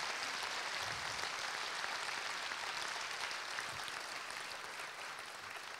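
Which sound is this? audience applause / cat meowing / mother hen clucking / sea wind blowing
audience applause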